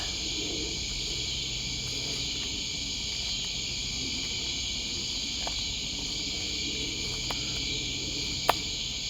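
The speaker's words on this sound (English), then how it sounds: "I think that tree cricket I'm hearing is a narrow-winged" A narrow-winged tree cricket trills in an even, unbroken high drone, steady and fairly near, with faint scattered clicks and one sharp tap near the end.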